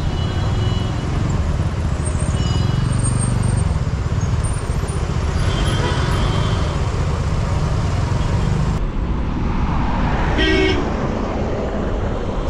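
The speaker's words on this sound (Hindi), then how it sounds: "तो ये रहा श्रीनगर का सिटी ट्रैफिक" Busy city road traffic in Srinagar: a continuous wash of engines and tires with repeated short horn toots from vehicles nearby and further off, a steady loud roar throughout.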